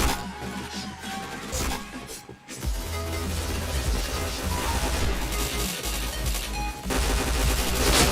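Rapid bursts of video game gunfire from a first-person shooter crackle loudly and almost continuously, with a brief lull near the middle before the shooting resumes over layered game effects.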